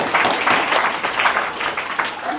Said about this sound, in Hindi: जोरदार ताली बजाया जाए।